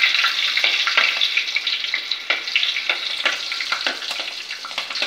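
Onions, one medium-sized and chopped, sauté in a pan with a steady hissing sizzle and occasional stirring scrapes, continuous and fairly close with no voices.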